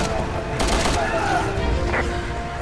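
Repeated gunshots pop in short bursts over a busy, noisy backdrop during a Resident Evil 6 co-op firefight in Edonia, with a clear cluster of shots near the middle.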